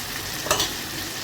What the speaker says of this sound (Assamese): বিলাহীখিনি কাটি থোৱা বিলাহীখিনি দি দিম ধুনীয়াকৈ